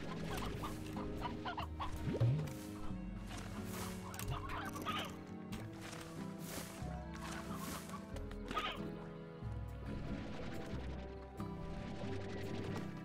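Video-game chickens in Slime Rancher cluck repeatedly in short bursts over a steady, layered game soundtrack.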